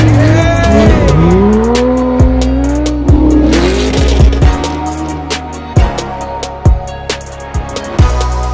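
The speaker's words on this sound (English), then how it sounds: "We had a bunch of supercars, drove on ice tracks, and the footage does the speaking" Supercars driving on an ice track, engines revving with rising and falling pitch, tires squealing and sliding, with a run of sharp knocks and thumps through the second half.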